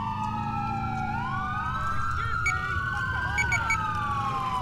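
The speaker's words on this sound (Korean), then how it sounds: "앰뷸런스를 왜 와?" An ambulance siren in the video game GTA IV wails in repeated rising and falling sweeps, steady and moderately loud over a low rumble of game background noise.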